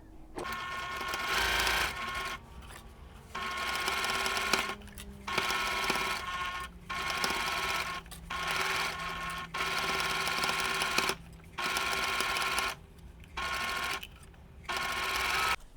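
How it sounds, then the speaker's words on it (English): A sewing machine stitches a quarter-inch quilt seam in short runs, its fast, even whirring repeatedly starting and stopping with brief quiet pauses between bursts, close and moderately soft. "I'm going to go ahead and stitch along the seam, right sides together, a 1/4 inch seam"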